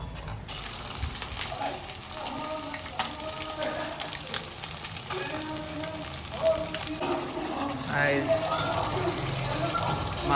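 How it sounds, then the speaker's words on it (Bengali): Fish sizzles as it fries in a pan, a crackling hiss that runs throughout amid clattering utensils and kitchen noise, with voices talking in the background. "মাছ হচ্ছে, মাছ ভাজা"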